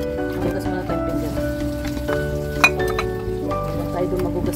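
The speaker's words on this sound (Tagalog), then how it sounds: "Magugas muna tayo pinggan at marumi ang mga pinggan" Dirty plates being washed by hand, with soft clinks and scrapes of dishes set against a steady background hum; people talk throughout.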